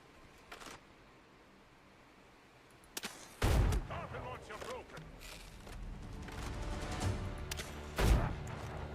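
Gunfire in the Windrose video game, a couple of loud sharp bursts amid a busy rumbling mix, with someone talking over parts of it.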